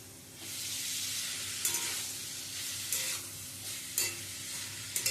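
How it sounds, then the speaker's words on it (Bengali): Fried bitter gourd and potato with nigella seeds sauté in a pan, a quiet continuous sizzle with a few crisp spatula scrapes at irregular intervals, close up and with no voices. "ভালো করে উচ্ছে আর আলুর সাথে একটু কষিয়ে নিলাম।"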